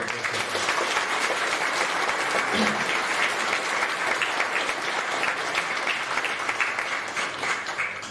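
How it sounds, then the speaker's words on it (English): Sustained applause from a large crowd at a school graduation ceremony, steady and loud throughout without a break. "So a special word of applause for Pat Breslin."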